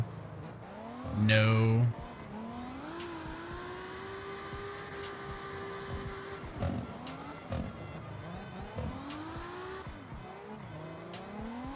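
Car drifting in CarX Drift Racing Online 2: a loud burst of engine revving gives way to a sustained, rising and falling engine tone with tire squeal, while a voice talks over it.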